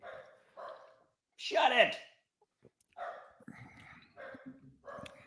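A pet dog gives a loud, excited burst of barking mid-clip, with people talking before and after it.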